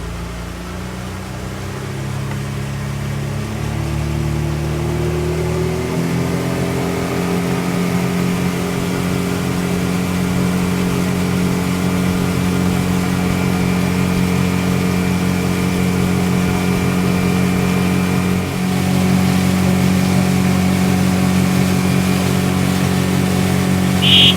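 A pontoon boat's outboard engine runs up to top speed, a steady droning hum that climbs in pitch early on and then holds constant, loud and close with no talking.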